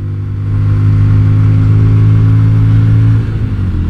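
A Yamaha Virago XV250 bobber motorcycle fitted with a 40-tooth rear sprocket revs its engine up close and loud, holding a steady throaty drone before easing off near the end.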